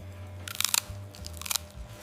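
Crunchy food is chewed close to the mic during a winter comfort-food meal. Two short clusters of crisp crunching bites stand apart from a low background hum.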